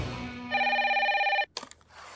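A telephone gives one bright trilling ring lasting about a second, cut off abruptly and followed by a brief clatter as the receiver is picked up.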